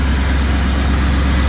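The 5.7-litre TPI V8 of a 1991 Camaro Z28 idles smoothly, a steady, close low rumble with no other sounds.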